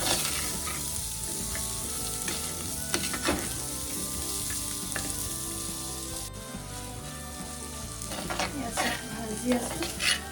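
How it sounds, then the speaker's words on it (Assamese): Beans frying in a pan produce a steady sizzle with occasional scrapes and clinks of a utensil stirring against the pan, and no voices are heard. "ভাজি আছো"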